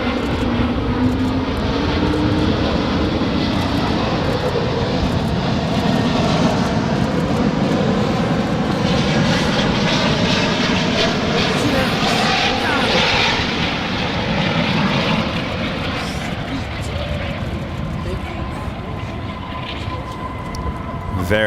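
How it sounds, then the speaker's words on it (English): An airliner landing at Dallas-Fort Worth International Airport, a loud sustained jet engine roar with a rising whine and shifting tones as it rolls out, steady for the whole stretch and fading slightly toward the end. "Very nice landing there."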